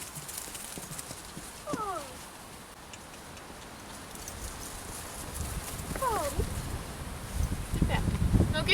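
A pony trots in hand on a lunge line, its hooves tapping a rhythmic clip-clop beat over background noise, with a couple of faint whinnies and a voice speaking softly in the background.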